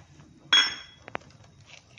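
A steel bowl pressed onto rolled dough to cut a round puri: one sharp metallic clink followed by two quick light taps, close and fairly quiet in an otherwise still kitchen.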